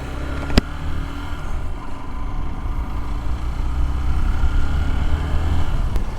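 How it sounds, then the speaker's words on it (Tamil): A Hero XPulse 200 motorcycle being ridden, its engine a steady, continuous drone with road and wind rumble that swells slightly toward the end, with no voices. "இப்போ வண்டியை ஒரு ரவுண்டு ஓட்டிகிட்டு வருவோமா?"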